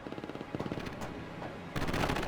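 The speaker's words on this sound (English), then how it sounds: "Commence artillery strike" Artillery barrage in the World in Conflict strategy video game, a rapid run of sharp firing reports followed by a louder, denser burst of explosive fire near the end.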